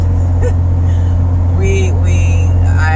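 A Jeep's engine and road noise are heard from inside the cabin, a steady loud low rumble throughout with faint higher sounds on top.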